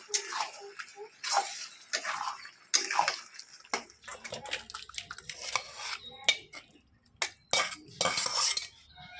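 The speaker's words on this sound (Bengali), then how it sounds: "এখন ভালোভাবে নাড়াচাড়া করব, করে নামিয়ে নেব" A spoon stirs a thin desi catfish curry in a pot after garam masala powder goes in, with irregular metallic scrapes, clinks and wet sloshes, close and fairly quiet, with short pauses between strokes.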